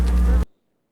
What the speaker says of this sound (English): it's going to be the bees that you see moving around, either dancing or following the dancers, those are the scout bees.